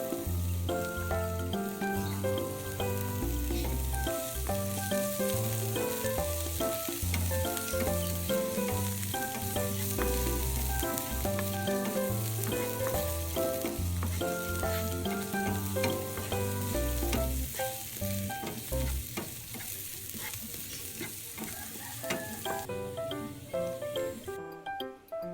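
Onions sizzle with pork sisig in a pan, a continuous frying hiss with stirring, heard beneath steady background music.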